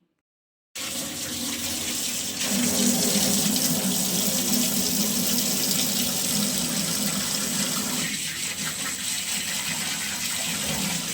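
Tap water runs hard and continuously while a drum is being washed at home, a loud, steady splashing rush that starts abruptly after a brief silence and keeps going with slight surges and no talk.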